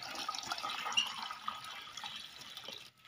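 Water pours steadily into a small bucket set out for chicks, a continuous close splashing and trickling that lasts throughout and stops abruptly at the end.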